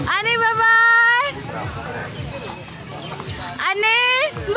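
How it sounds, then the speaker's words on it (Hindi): A horse at a festival ground in Bhopal walks with a clip-clop of hooves, partly buried under close talk, crowd babble and high, sweeping voice-like calls at the start and end. "आनी आनी चल मेरे घोड़े, देख देख देख"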